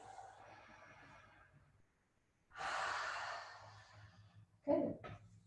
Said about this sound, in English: 1, 2, and then you breathe